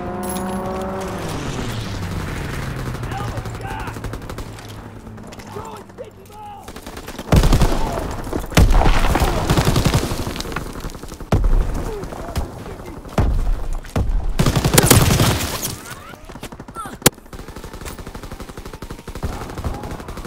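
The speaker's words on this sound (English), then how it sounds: "Fighter pilot inbound. Strafing the target." Fighter plane strafing run in a Call of Duty WW2 multiplayer match: heavy bursts of machine-gun fire and impacts hammer in waves, loud and close, mixed with other battlefield gunfire and brief radio voices.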